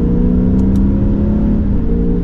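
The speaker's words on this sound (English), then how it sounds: "it's a well-refined Lexus that gives you some of that noise that you want to hear under acceleration" 2024 Lexus IS 500 F Sport exhaust under acceleration, a steady loud engine drone from inside or near the car, with no voices.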